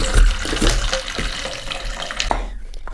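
Still water poured over ice into a Trimax shaker, a steady splashing pour with faint clinks of ice, close and fairly loud for about three seconds before easing off.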